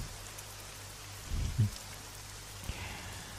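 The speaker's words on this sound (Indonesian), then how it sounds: "Itu hujan." Steady rain hisses softly across the scene, with a couple of low thumps breaking through the constant patter.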